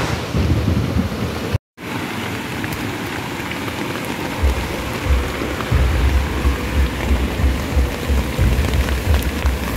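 Heavy rain pours steadily on a campsite at night, a dense, constant hiss and patter with low rumbling underneath, loud and continuous apart from one brief dropout.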